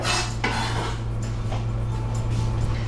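Sliced food being dropped into a small bowl, with a few light clinks of utensil against dish over a steady low hum of the room.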